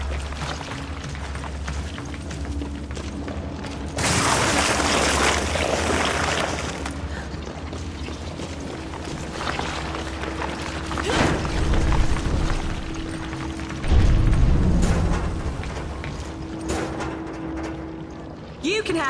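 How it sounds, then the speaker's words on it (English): A ship is torn apart in Resident Evil 5 with loud booming crashes and rushing, pouring noise. Big bursts swell several times over a constant low rumble, and voices talk briefly in between. "It's ripping the ship apart!"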